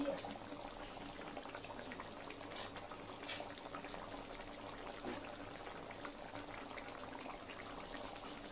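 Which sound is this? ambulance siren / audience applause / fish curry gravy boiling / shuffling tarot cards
fish curry gravy boiling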